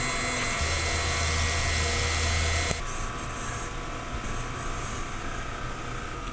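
An inkjet printer runs a print head cleaning cycle, giving a steady mechanical hum and whir, then a sharp click partway through, followed by quieter pump and motor noise.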